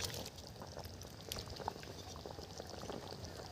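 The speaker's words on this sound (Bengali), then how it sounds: "ঝোল ফুটে গেছে" Fish curry broth with potatoes and fish pieces boiling in a pot, a steady bubbling hiss and crackle that holds at an even, moderately close level for the whole stretch with no talking.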